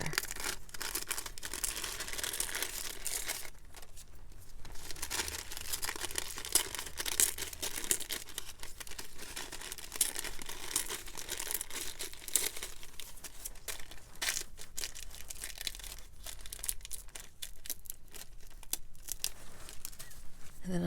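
Homemade tape made from thin patterned tissue paper is rolled and torn repeatedly. The soft, close papery rips and crinkles continue steadily for about twenty seconds with no voices.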